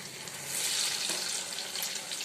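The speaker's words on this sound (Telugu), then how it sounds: "గోల్డెన్ బ్రౌన్ వచ్చేంత వరకు ఫ్రై చేసుకున్నాం" Garelu, lentil fritters, frying in hot oil, giving a steady bright hiss and crackle that swells slightly midway, with no voices.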